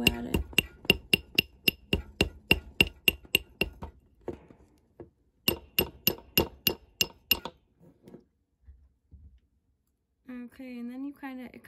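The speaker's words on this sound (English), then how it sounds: "you can take your mandrel, put it on there, and then if you want to get those real flat, you'll take a hammer and you'll just go at it" A hammer flattens a copper wire ring on a mandrel in rapid, evenly spaced metallic taps, a pause, then a second quick run of strikes, a few softer knocks, and a voice at the end.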